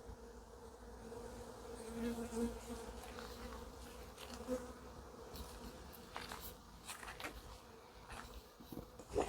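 European dark honey bees buzz steadily at a sunlit hive, a dense, agitated drone close by with individual insects passing near, no talk over it.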